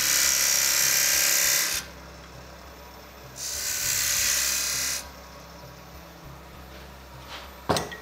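A lathe cutter carves a small recess into a turned wooden box, giving two bursts of bright, hissy cutting noise with a quieter pause between them, then a short sharp knock near the end.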